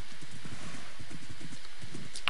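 Horse hooves clip-clop at a steady walking rhythm in a survival video game, the regular hoofbeats close and clear with nothing else beside them.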